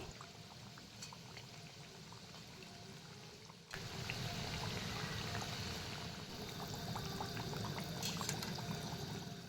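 Semolina sweets deep-frying in hot oil, a steady bubbling crackle that grows louder and denser after a few seconds and continues without pause, no voices.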